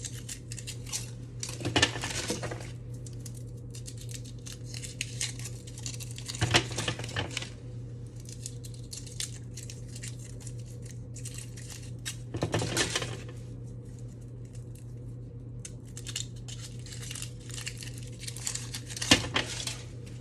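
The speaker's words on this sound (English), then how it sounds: "I'm gonna chop them even further down" A knife chops chocolate into smaller pieces, landing in irregular clusters of sharp, crisp strikes with quiet gaps between them, over a low constant hum.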